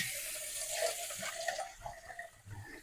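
Water runs into a can that held crushed tomatoes for a Sunday gravy, a steady close splashing pour with brief gurgles as it fills, no voices over it.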